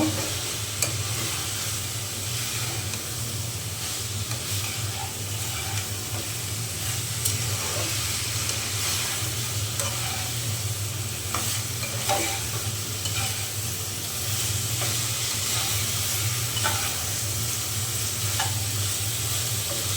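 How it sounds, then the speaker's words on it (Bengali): Already fried potato and cauliflower pieces are stir-fried with spice masala in an oily pan, giving a continuous close hissing sizzle with frequent scraping and stirring sounds throughout. "এখন আমি এই যে ভেজে রাখা আলু আর ফুলকপি দিয়ে দিলাম এখন মশলার সাথে আমি কষিয়ে নেব"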